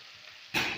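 Potatoes with turmeric hit hot oil in a pan and burst into a loud, crackling sizzle partway through the brief moment, after quiet low background.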